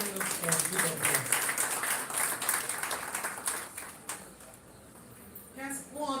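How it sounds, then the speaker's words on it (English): Audience applause at a Karnataka Physics Association gathering, a moderate patter of clapping that dips midway and picks up again, with a voice speaking over it at times. "Another round of applause."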